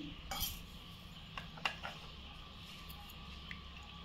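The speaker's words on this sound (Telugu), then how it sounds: "ఈ బియ్య పిండిలో వేసి కలుపుకుందాం" Rice flour mixed with colour and water is stirred in a bowl, giving faint scraping and a few soft clinks of a spoon against the rim, quiet and close.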